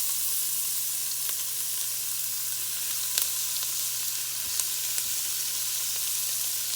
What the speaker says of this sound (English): And now we're going to let those onions just start sauteing just a few minutes.